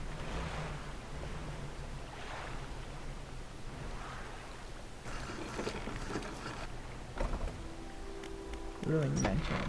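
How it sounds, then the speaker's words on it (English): Waves swell and crash against basalt columns around a ruined mansion in the Dredge video game, a continuous surging wash with rolling swells, and a tonal game sound appears near the end. "the waves swelling and crashing against the basalt columns that surround you"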